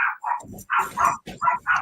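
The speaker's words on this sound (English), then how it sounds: "Sounds like the puppies are going good." Puppies barking indoors in a house, a run of about six sharp yips and barks in quick succession, fairly close and loud with short gaps between them.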